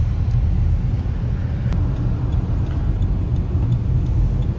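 Buses and other traffic pass on a Delhi to Chandigarh highway, a continuous loud low rumble of engines and road noise heard from inside a moving vehicle, with no talking.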